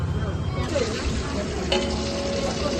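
Cumin seeds and oil sizzle in a hot pan for vegetable biryani, a steady close crackle with occasional stirring scrapes and a bright clink partway through.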